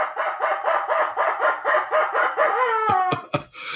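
A rubber chicken toy squawks in a rapid series of about a dozen loud, nasal honks, then finishes with a few sharper, stretched squeals before cutting off.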